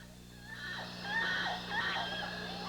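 Muriqui monkeys calling at dusk as the group gathers to sleep, a few rising and falling high-pitched screams and whinny-like cries over a steady background hum, moderately distant.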